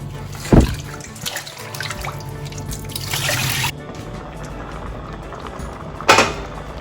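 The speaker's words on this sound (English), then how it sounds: "Give them a wash. Remove whatever dirt that is on them to ensure that they're clean." Dried peas for Jamaican stew peas being washed in water, with sloshing, trickling and a couple of sharp knocks of a container against a surface, close by.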